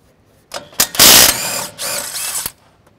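A socket wrench ratchets loudly on the top bolt of a RAM 1500 DS suspension during an Ironman 4x4 Foam Cell Pro kit install, two close bursts of rapid clicking after a few metallic taps.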